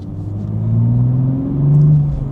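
Toyota GR Supra Final Edition accelerating hard in sport mode, a loud, close engine note whose rising harmonics climb steadily through two pulls with no talk over it.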